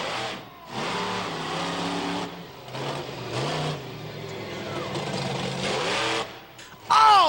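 The Bigfoot monster truck, the Firestone Summit truck, revs hard during a jump run at a monster truck show, with loud, close engine surges rising and falling in several bursts and short dips between them.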